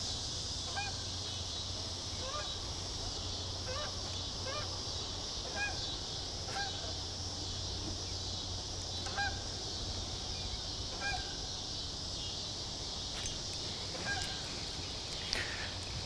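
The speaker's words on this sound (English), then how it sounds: "Here comes some geese." Geese honk intermittently in the distance, scattered calls repeating over a steady hiss of wind or water.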